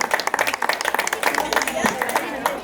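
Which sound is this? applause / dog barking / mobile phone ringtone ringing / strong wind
applause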